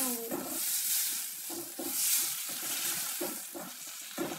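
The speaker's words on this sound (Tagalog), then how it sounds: "Tapos, haluin natin hanggang mawisipan." Eggs and tomato stir-fried in a pan sizzle steadily, with repeated scraping stirs of a spatula in an uneven rhythm, close and moderately loud.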